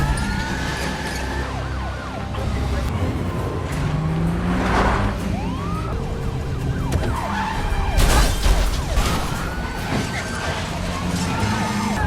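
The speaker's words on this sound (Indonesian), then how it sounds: "dalam perjalanan ke sana mereka dikejar oleh beberapa mobil polisi dan anak buah Murad" Police car sirens wail and sweep in pitch over engine roar during a car chase in the film Taken 2, with several overlapping siren tones, screeching and crashing action amid busy traffic noise.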